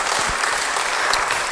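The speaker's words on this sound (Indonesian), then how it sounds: "Beri tepuk tangan yang baik buat dia." A church congregation bursts into applause, a dense, steady patter of many hands clapping together, loud and close throughout the short burst with no talk over it.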